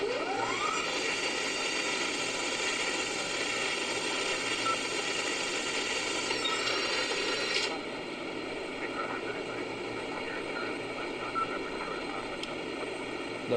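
Boeing 787 jet engines during takeoff from Auckland, a steady, loud whining roar with high turbine tones, heard continuously from inside the cabin with no talking.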